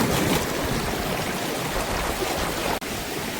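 A river stream rushes steadily at night, a close and continuous wash of flowing water with one brief dip near the end.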